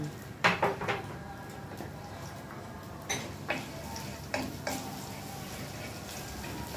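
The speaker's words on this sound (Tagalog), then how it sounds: "Siyempre, unahin nating igisa yung bawang." Garlic sautés quietly in a pan, a faint frying hiss broken by scattered sharp taps and clinks of a utensil against the pan.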